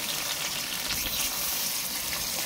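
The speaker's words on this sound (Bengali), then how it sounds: "এখন আমি মাছগুলোকে ছেড়ে দিচ্ছি।" Rohu fish slid into smoking-hot mustard oil in a wok, giving a loud, steady, dense sizzle and crackle that runs unbroken throughout, with no voices.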